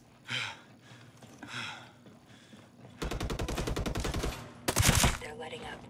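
Gunfire in Ghost Recon Breakpoint, a tactical shooter: after two breathy gasps, a rapid automatic burst rattles for over a second, then a louder, denser volley cracks close by and cuts off abruptly.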